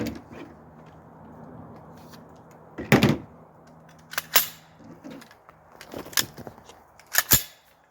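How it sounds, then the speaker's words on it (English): A pistol brace is removed from a gun with a series of sharp plastic-and-metal clicks and snaps, one loud clack followed by several quick clicks in scattered bursts over a quiet room. "We're going to take the brace off altogether now."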